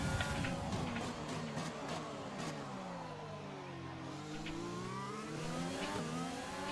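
An F1 race car engine running in rich mode in a Bahrain practice session of an F1 video game, a loud, continuous high-revving whine whose pitch dips and then climbs again as it accelerates, with no voices.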